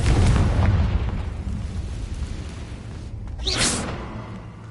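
Confringo fire spell blast in the video game Hogwarts Legacy: a loud, booming explosion at the start that rumbles and fades, followed by a brief whooshing burst near the end.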